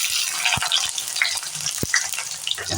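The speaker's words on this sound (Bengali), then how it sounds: "আমি এর মধ্যে পেঁয়াজ দিয়ে দিলাম।" Onion added to hot oil with fried chilli crackles in a close, loud, continuous sizzle, broken by a couple of sharp utensil taps and soft spatters.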